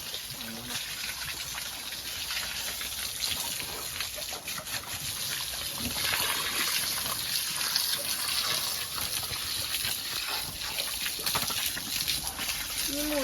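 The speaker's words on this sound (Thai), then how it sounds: "เอาน้ำเนี่ยล้างขี้หมูให้มันหายเหนียว" A water hose washes sticky pig manure off the floor of a pig pen, making a steady, continuous hiss of spraying and splashing water with brief bits of a voice.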